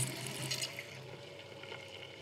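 A surge of water pours over a BMW Z4 3.0si during a leak test, a steady broad wash of splashing and rushing liquid, loud and close, easing slightly after the first half second.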